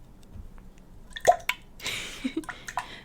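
A few close, wet drips and squishy liquid sounds from water in a drinking cup, scattered irregularly over a quiet background, with one sharper splash and some soft gurgling.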